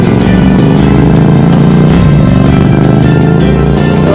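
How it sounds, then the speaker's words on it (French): A motorcycle engine drones loud and steady near a riverside fly-fishing spot in town, a continuous close motor rumble filling the whole stretch with no talk. "C'est pas grave, c'est la moto."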